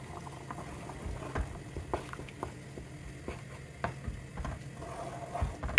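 Chicken curry gravy with garam masala bubbling in a pan, soft irregular pops and blips over a low simmering hiss, quiet and close with no voices.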